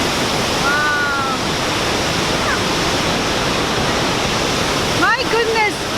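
Victoria Falls in Zimbabwe roars as a loud, constant wash of broadband rushing water, close and unbroken throughout, with brief voices and exclamations surfacing over it.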